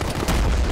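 A rocket launch and explosion in the Arma video game, a loud, broad booming blast that fills a brief moment with dense rumbling noise.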